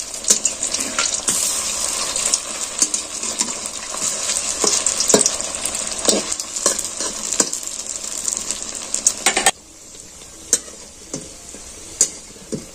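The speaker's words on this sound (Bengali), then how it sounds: "এইভাবে আমি উল্টে পাল্টে লাল করে ভেজে নেব" Sweet potato pieces fry in hot oil with a loud continuous sizzle and repeated scraping taps as they are turned; the sizzle then drops away, leaving a quieter hiss broken by a few sharp clicks.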